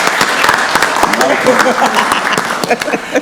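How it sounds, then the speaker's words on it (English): Applause for Animal Control at a county board of commissioners meeting, loud sharp clapping from the audience with talking underneath throughout. "let's give a round of applause to Animal Control"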